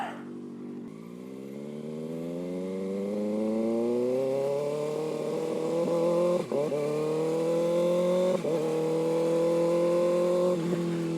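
A 2025 Kawasaki ZX6R accelerating hard, its engine note climbing steadily, then cut by brief quick-shifter gear changes, each followed by the revs rising again, loud and close.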